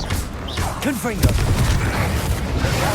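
Confringo fire-blast spell from Hogwarts Legacy combat: a sharp explosive burst lands about a second in, surrounded by whooshing spell effects and busy battle noise.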